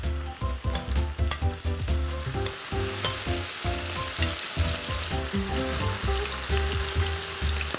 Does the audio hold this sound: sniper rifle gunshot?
no